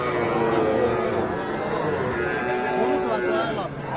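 A young bull calf, about three months old, lows at a cattle market, the drawn-out moo sounding close over the murmur of people talking.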